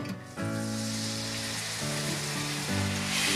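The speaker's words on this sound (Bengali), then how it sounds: "মশলাটা আমি ভালো করে কষে নেব" Spice paste for a hilsa fish head and ash gourd ghonto cooks down in a pan with oil, giving a steady, fairly soft sizzle and frying crackle that runs through the whole stretch, with a low steady hum underneath and no talk.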